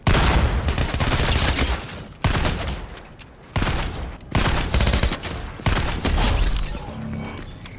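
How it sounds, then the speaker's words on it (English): Bursts of rapid automatic gunfire in Fortnite come in several dense, loud volleys separated by short pauses, with no voices over them. "Oh my god, now we're getting shot at."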